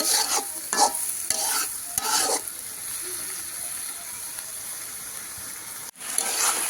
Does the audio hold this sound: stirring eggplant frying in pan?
yes